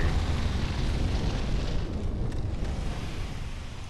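Fire roaring in the dark fantasy game Bloodborne, a dense, steady rumble and crackle filling the whole moment at close, loud level, with no voices.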